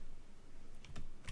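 Computer keyboard keys are tapped a few times near the end, quick clicks over low room noise, close and fairly quiet.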